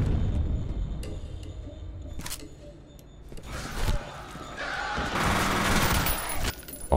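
Sharp gunshots in the video game F.E.A.R. Extraction Point crack out one by one, then give way to a denser, sustained burst of rapid fire, loud and close.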